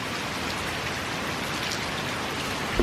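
Steady rain falls on a rainy day, an even, dense hiss of drops spattering on surfaces that holds constant throughout, with no voices over it.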